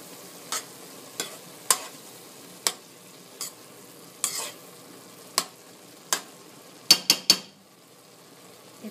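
Minced garlic frying in a pan for empanada filling, with a spoon stirring and scraping it: scattered sharp clinks and scrapes, a quick cluster near the end, over a faint, low sizzle.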